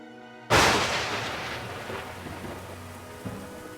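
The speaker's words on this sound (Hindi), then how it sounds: "अल्लाह जाने कि मोई बारिश कब रुकेगी।" A sudden loud burst of heavy rain or a thunderclap opens, then settles into a steady roar of rainfall that slowly fades.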